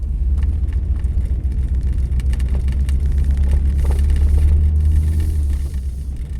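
A car accelerates while driving in snow, its low engine drone and road rumble steady and close, swelling slightly toward the middle before easing off; no talking.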